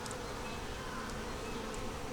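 Honeybees in a four-frame nuc hive with a queen cell give off a dense, steady buzzing hum, close and continuous, with no voices.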